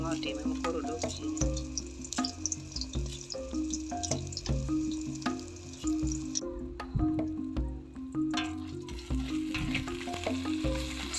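Eggs fry in a pan over a village cooking fire, a steady close sizzle with occasional scraping and clinks, over rhythmic background music.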